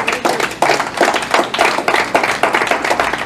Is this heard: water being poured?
no